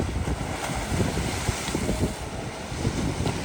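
Choppy waves roll on Lake Ontario on a blustery day, making a continuous wash of water under heavy wind buffeting on the microphone.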